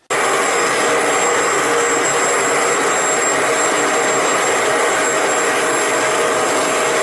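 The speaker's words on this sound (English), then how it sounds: "It just directs a jet of cleaning fluid out." Bissell ProHeat 800W Revolution Pet Pro carpet cleaner spraying a jet of cleaning fluid, a loud, steady, even hiss with a motor whine that starts abruptly and holds unchanged, with no talk.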